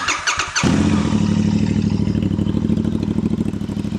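A Royal Enfield Goan 650 motorcycle with aftermarket exhaust pipes cranks over and fires up into a deep, loud, throaty rumble that settles into a steady, lumpy idle.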